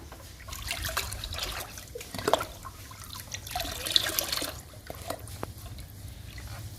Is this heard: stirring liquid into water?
yes